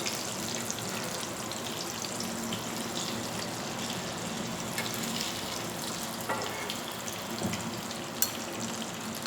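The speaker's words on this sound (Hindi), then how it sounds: "अभी हम इसे 5 मिनट तक पकाते हैं, फ्राई करते हैं।" Chicken shami kababs frying in oil in a pan, a steady dense sizzle and crackle throughout with occasional small pops, close and continuous with no talk.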